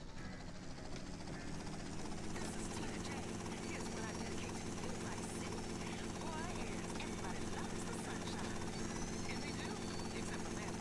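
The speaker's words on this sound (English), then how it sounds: "We're gonna use the chopper." Helicopter in the video game Vice City Stories, a continuous loud rotor thrum and whine holding steady throughout, with game dialogue voices mixed in.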